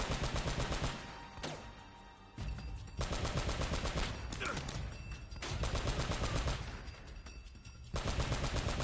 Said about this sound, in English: I get to use a turret.